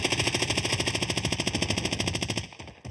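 Sustained rapid automatic gunfire in a first-person shooter game, a dense, loud, evenly spaced stream of shots that cuts off near the end, no talking.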